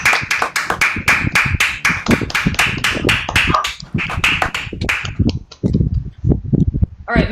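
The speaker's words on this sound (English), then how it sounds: "Please unmute yourselves and clap it up for Weird Al" An open mic audience applauding over a video call, a quick run of sharp, close claps that thins into scattered separate claps toward the end.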